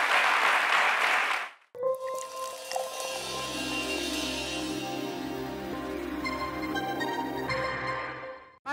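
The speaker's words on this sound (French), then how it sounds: "Avec les applaudissements de ces valeureuses mamans." A studio audience on a French TV show applauds in a loud burst for under two seconds, then cuts abruptly to a music jingle that carries on to the end.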